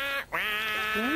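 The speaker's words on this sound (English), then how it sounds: "Yes, Jim, duck is quacking his quacking song" A duck on a farm gives a couple of drawn-out, nasal, buzzy quacks, close and clear with a brief gap between them, and no talking.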